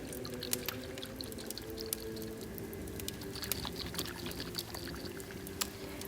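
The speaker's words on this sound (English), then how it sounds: "I will be mixing the angelica root with some of these oils that I brought and some water" Water and oils poured to blend crushed angelica root powder, a continuous close trickle and splash with small wet squishing sounds and faint clicks throughout.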